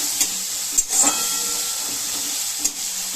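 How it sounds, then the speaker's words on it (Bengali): Onion and ginger-garlic paste frying in a pan, a steady close hiss and sizzle with a few brief stirring scrapes, no voices. "এবার আদা রসুনের পেস্টটা পেঁয়াজের সাথে একটু ভালোভাবে নাড়াচাড়া করে একটু ভেজে নেব"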